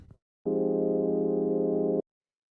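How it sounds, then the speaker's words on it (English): A raw analog synth saw-wave pad with no effects plays as one steady, bright, harmonically rich sustained tone of about one and a half seconds, loud and alone, after a brief faint noise at the start. "Here is the sound just coming straight out of analog."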